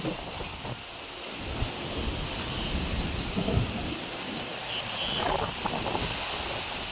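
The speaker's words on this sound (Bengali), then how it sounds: "প্রচুর বাতাস ছাড়ছে প্রচুর তুফান" Strong Kalbaishakhi storm wind in rural Bangladesh, a loud continuous roaring gust buffeting the microphone throughout, with rustling and faint rumbling beneath.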